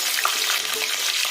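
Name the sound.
green chillies sputtering in hot oil with mustard seeds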